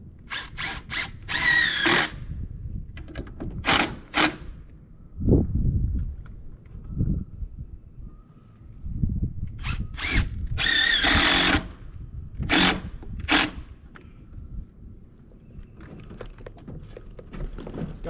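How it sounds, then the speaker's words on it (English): A power drill drives screws into wood on a construction job, giving several sharp whirring bursts of a second or two each, spread across the clip, with quieter work noise between them. "So we are going to throw some screws to that bad boy"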